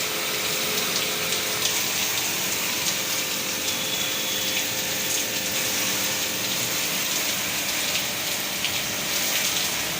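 Water rinsing the coil of a split air conditioner indoor unit, a steady close hiss of spraying, splashing water mixed with a pump-like drone, continuous throughout.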